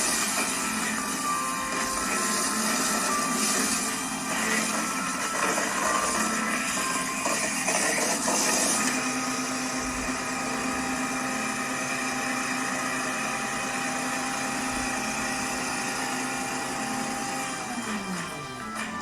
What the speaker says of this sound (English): This is our gutter vacuum truck.